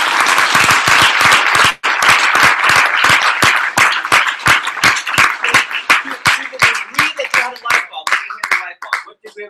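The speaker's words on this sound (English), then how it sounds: "Give yourselves a round of applause." Audience applause at a public speaking event: a dense burst of many hands clapping close by, briefly breaking off, then resuming and gradually thinning into scattered individual claps before fading out.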